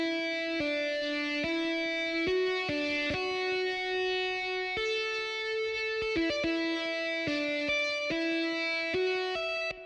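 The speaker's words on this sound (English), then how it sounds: "Then the last sound is this guitar lead" Distorted guitar lead melody for a beat, playing a string of sustained, stepwise notes with quick pitch changes, loud and upfront with no voices.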